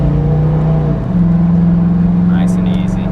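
1996 Buick Roadmaster wagon on an easy acceleration pull, a steady, loud, droning engine note heard from inside that steps up in pitch once partway through, with faint brief sounds near the end.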